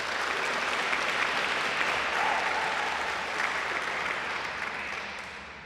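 Audience applause at a women in sport awards ceremony, a full room clapping loudly and steadily before gradually tapering off at the end.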